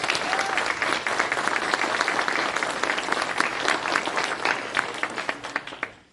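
An audience at a city's State of the City event applauding youth symphony violinists: dense, sustained clapping from a sizable crowd that fades away at the end.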